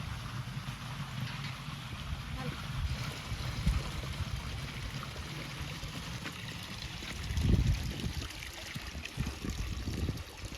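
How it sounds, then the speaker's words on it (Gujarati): Irrigation water running into a farm field, a soft, steady trickle and gurgle heard outdoors at low level with faint wind, and no talk. "અહીંથી પાણી જાય છે ખેતરમાં"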